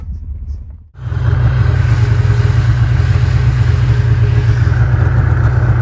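A snowmobile's engine bursts into a loud, close roar after a brief quieter moment, then holds a strong, steady rev as it pulls away.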